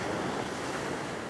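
Ocean waves surge against a rock fishing spot as the swell rises, making a loud, close, continuous roar of churning surf mixed with wind buffeting the microphone.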